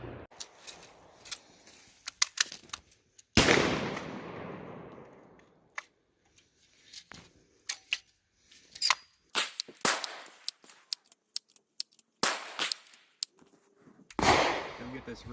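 A .22 LR rifle fires CCI rounds into segmented ballistic gel: two loud, sharp reports stand out close by, separated by scattered small clicks and handling noises.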